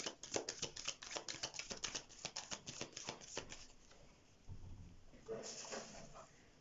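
A deck of tarot cards is shuffled up close in rapid, fluttering riffles, one after another for several seconds. Softer sliding and handling of the cards follows.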